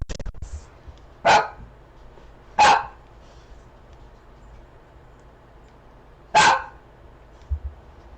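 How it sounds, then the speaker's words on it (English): Three sharp, loud dog barks ring out indoors, spaced unevenly with quiet stretches between them. "Cause my husband's dog is barking too."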